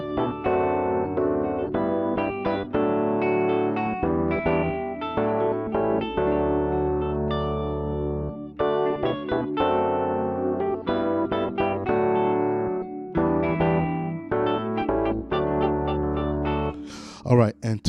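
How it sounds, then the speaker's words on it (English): Electric piano layered over a synth pad playing a gospel song, rich sustained chords with moving notes, continuous and fairly loud, a voice briefly heard near the end. "if you were to add the piano in there, EP, it will sound like this"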